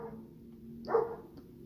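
A dog barks in the background of an indoor space, one brief muffled bark rising near the middle, faint and a little distant.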